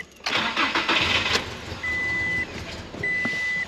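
A Toyota Tacoma engine with a suspected bad fuel pump turns over in an extended crank after its fuel rail was purged, with a close rhythmic cranking churn, a brief stumble and a high electronic beep that sounds twice.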